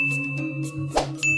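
A subscribe bell notification chimes as a short bright ding over steady background music, with a soft swell just before a clear ringing tone.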